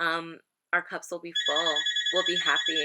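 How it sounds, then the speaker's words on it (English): A house landline phone rings with a steady, repeating electronic trill under continuous nearby speech, starting partway through after a brief pause in talking. "Please excuse my house phone ringing."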